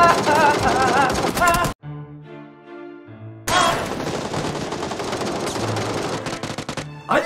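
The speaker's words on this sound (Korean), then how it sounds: "총소리가 너무 많이 들려가지고" Dense, rapid bursts of automatic gunfire in a battle royale video game, loud and continuous, broken by a short pause with a low tonal hum before the shooting resumes.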